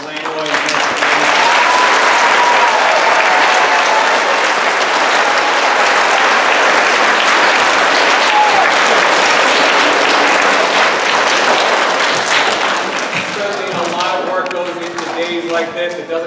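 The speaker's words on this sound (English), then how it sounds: "there needs to be a great round of applause to two wonderful teachers, Mrs. Langlois and Mrs. Langlois" An audience at a second-grade school event applauds two teachers, loud sustained clapping filling the room for about fourteen seconds before fading, with a few voices and cheers mixed in near the end.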